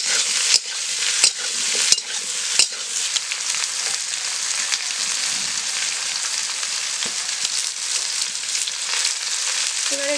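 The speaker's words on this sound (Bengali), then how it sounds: "সবজিগুলো ভাজা ভাজা হয়ে গেছে" Vegetables fry in a hot pan with a broad, steady sizzle, broken by a few sharp clacks of the stirring spoon early on, close and alone with no voices.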